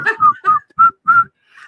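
A person whistles short, bright notes in a quick broken rhythm during a 'whistle while you twerk' party game, close and clear with no talking.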